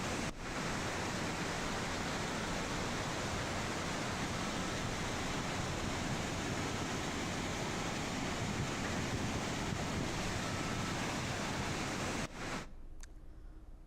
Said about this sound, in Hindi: वहां पर इस वक्त ये तेज़ बहाव पानी का जिस तरीके से गरज रहा है